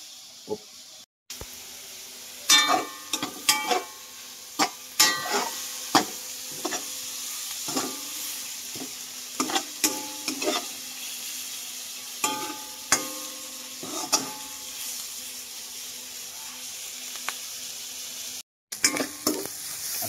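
Eggplant and other vegetables sizzle in a pan with pork fat for a Filipino bagoong dish, a steady close hiss broken by frequent sharp clatters from a stirring utensil, with no one speaking.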